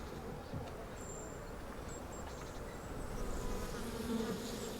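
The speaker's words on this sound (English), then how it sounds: "This is where his bees continue to find their food." Bees buzz around a beekeeper's hives in an old village in Oman, a soft, steady hum of many insects that swells slightly toward the end, with faint bird chirps in the background.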